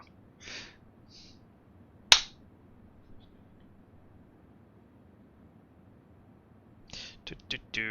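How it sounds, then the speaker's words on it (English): A single sharp hand clap rings out loud and close after a brief faint noise, followed by near silence; a few quieter clicks and knocks come toward the end. "I am going to clap"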